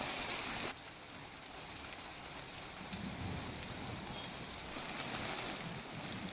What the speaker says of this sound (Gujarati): કમોસમી વરસાદ સુરેન્દ્રનગરની અંદર